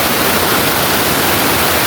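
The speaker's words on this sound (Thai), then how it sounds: "ตอนนี้ผมก็อยู่กลางหน้าผา กลางน้ำตกจิ้มใหญ่นะครับ" Sap Sa Kaeo waterfall in Ban Khao Phlu, Bueng Sam Phan district, heard from midway up the cliff face as a loud, dense, unbroken roar of rushing water close by.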